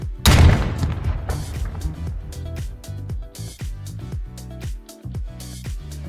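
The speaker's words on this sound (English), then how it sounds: "M82A1 rifle." A powerful M82A1 rifle shot booms at the start, followed by a long rumbling echo with rhythmic mechanical clatter trailing off.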